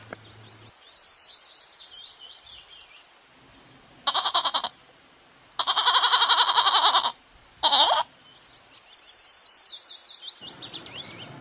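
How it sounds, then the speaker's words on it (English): A goat bleats in three loud, close, wavering cries, one of them longer, while birds chirp softly before and after. "G for goat."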